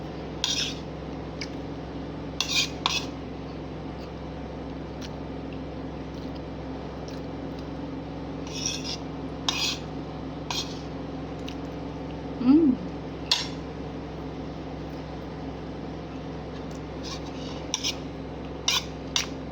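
Cutlery and plates clattering during a meal, scattered light clinks and taps of utensils against dishes spread across a quiet, steady room hum, fairly close, with no talk over them.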